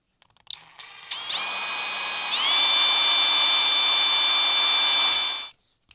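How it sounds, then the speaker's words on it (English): A power drill drilling a small hole whirs up to speed, steps higher in pitch, holds a loud steady whine for several seconds, then stops abruptly. "drill a wee hole in the end there and put a screw through"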